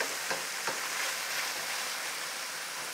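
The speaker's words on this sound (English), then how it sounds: "Stir this up, and we wanna get all of this beautiful fond off the bottom of this pan." Spoon stirring and scraping browned fond off the bottom of a pan with sizzling onions and sauce, a soft steady hiss with a couple of quick scrapes early on, fairly faint and close.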